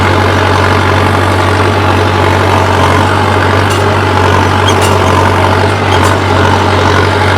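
Tractor engine pulling a cultivator through a field at about 1500 rpm, a loud steady low diesel drone with constant rumble throughout, close by and unbroken.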